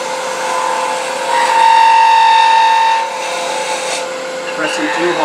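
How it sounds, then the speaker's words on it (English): A wooden coffee scoop spins on a lathe while the cutting tool, pressed too hard, chatters with a steady buzzing whine that swells louder for a couple of seconds, then eases back to a lower hum. "Pressing too hard, so I'm getting a little chatter."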